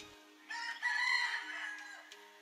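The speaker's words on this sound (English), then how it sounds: "Hello, Mr. Rooster." A rooster from the video game dotAGE gives one drawn-out, clear cock-a-doodle-doo crow lasting about two seconds, with no talking over it.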